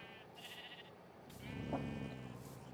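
Two short, faint bleats from a sheep in a video game, widely spaced and coming through quiet background ambience.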